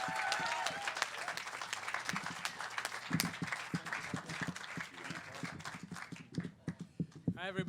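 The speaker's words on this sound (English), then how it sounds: "give a big round of applause" An audience at DisclosureFest 2019 claps to welcome a speaker onstage, sustained applause with sharp individual claps and some cheering, while a voice talks through it.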